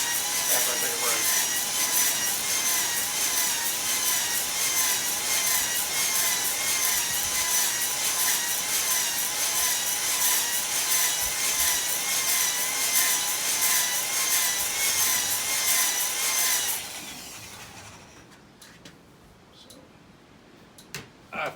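A drill motor spins a hone plunging up and down inside a cylinder of a Jeep 4.0 engine, a steady high whine with rhythmic scraping for about seventeen seconds before it stops abruptly and leaves near silence.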